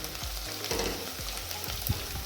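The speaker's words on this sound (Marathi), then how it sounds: "यामध्ये आपण सोडणार आहे कढीपत्ता याला पण छान घालून द्यायचं आहे" Curry leaves hit hot oil for a Maharashtrian toor dal bharad, giving a bright, steady sizzle with a few sharper crackles and pops over about two seconds, close and alone with no voices.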